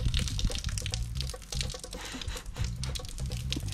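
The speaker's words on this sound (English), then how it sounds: "And sink water splashing all over us." Water splashes and spatters from a sink while skin fittings are being installed aboard a sailing boat, an irregular run of close, busy splashing with low knocks mixed in and no talk.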